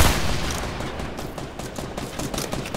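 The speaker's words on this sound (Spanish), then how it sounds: "O sea, te están disparando a ti, ¿eh?" Rapid bursts of gunfire in a Fortnite match, dense and loud, with a steady stream of crackling shots and no talking.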